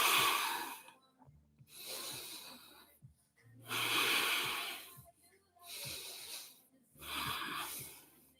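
Deep, forceful breaths while holding a yoga forearm plank, four long inhale-exhale cycles with roughly one-second silent pauses between them, loud and close, with no talking.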